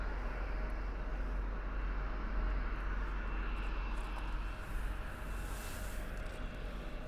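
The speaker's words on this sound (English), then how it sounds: "we got Alaskan Airlines coming in" An Alaska Airlines jet approaches Toronto Pearson airport, a steady broad engine roar heard from a distance, even and continuous with a faint rise in whine.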